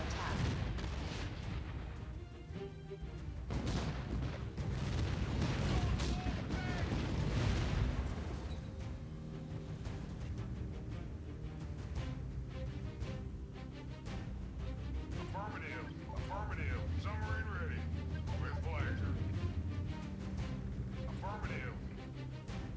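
Artillery fire and explosions during an attack on an allied base in the strategy game Art of War III, with heavy booms and crashes rolling loud and continuous throughout, under game voice callouts.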